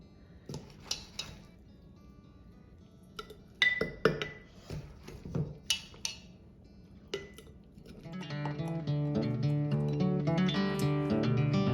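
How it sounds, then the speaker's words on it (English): Cabbage being pressed tightly into a glass jar for sauerkraut or curtido: a run of separate clinks and knocks of glass and utensils, close and fairly quiet, followed by a steadier, louder stretch of clattering handling. "I'm going to pack this cabbage into the jar as tightly as possible."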